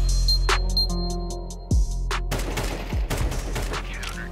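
AK-47 rifle with the Slate skin firing in Counter-Strike 2, heard as several sharp gunshot bursts in quick succession, loud and close, with other game sounds around them.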